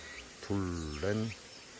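Honeybees buzzing around beehives, with a close buzzing drone that rises briefly twice as a bee passes near, faint and short, with no voices.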